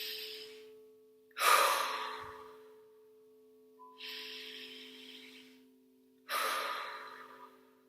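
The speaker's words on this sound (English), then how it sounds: "I'm going to start out with this rhythmic breathing" A person performs rapid rhythmic breathing, four forceful breathy hisses, alternating sharp inhales and exhales with short pauses between, close and clear over a faint steady hum.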